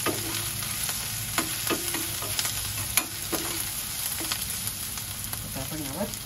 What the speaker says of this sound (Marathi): कांदा बघा लालसर व्हायला सुरुवात झाली।